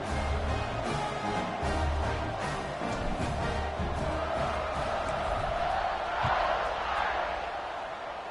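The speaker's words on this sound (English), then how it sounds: "this crowd is buzzing after that last score" A stadium crowd buzzes in the video game College Football 26 during a Notre Dame game. It is a dense, continuous roar of many voices, steady and loud throughout with no clear break.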